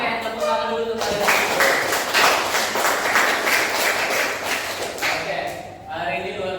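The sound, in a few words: classroom applause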